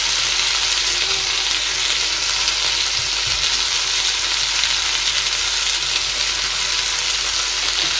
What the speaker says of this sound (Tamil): நல்ல வதங்கி வரணும்